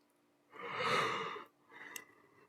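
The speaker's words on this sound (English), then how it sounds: "no, that was me yawning" A single human yawn, close and soft: a long drawn breathy exhale swelling and fading over about a second, followed by a shorter quieter breath trailing off.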